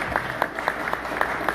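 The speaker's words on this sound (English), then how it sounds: "you can clap for that" Audience applause at a Politicon 2017 panel on LGBT issues, a steady wash of clapping from a crowd with a few sharper peaks, fairly loud and continuous throughout, no talk over it.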